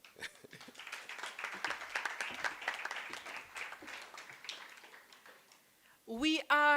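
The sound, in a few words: audience applause at ceremony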